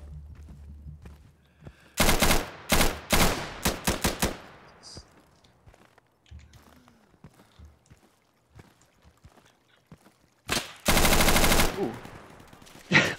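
M249 SAW light machine gun fired from the hip in the Insurgency video game: loud, rapid bursts of automatic fire in several close volleys, with sparse distant shots and quieter gaps between, then a long sustained burst near the end.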